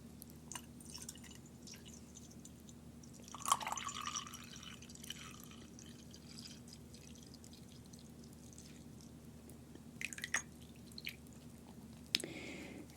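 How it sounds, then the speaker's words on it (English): Fortnum and Mason Earl Grey tea is poured into a cup, a soft close trickle with a few brief splashing bursts and faint drips in an otherwise quiet room, no talking. "I'm going to pour me some tea."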